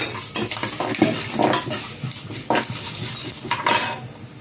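Cashews frying in oil in a pan for aval upma, close rattling and scraping of a spoon against the pan over a light sizzle, in uneven bursts.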